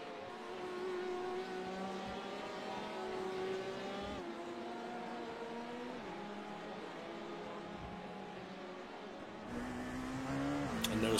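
Race cars circling a track during an endurance race, including the Venomworks car, engines droning in sustained rising and falling pitch from a distance, heard alone at low level with a louder pass building near the end.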